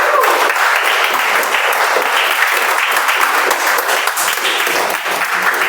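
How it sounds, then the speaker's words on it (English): A Toastmasters meeting audience gives a round of applause for the best speaker, with steady, moderately loud clapping from a small group that continues for the whole clip. "Give a round of applause."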